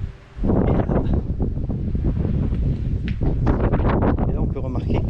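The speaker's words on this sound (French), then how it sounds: "C'est dur de pas bouger avec le vent qu'il y a." Steady wind buffets the microphone with a low rumble throughout, while a person talks over it close by.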